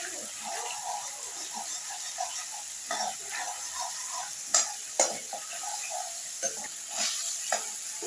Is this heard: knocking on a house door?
no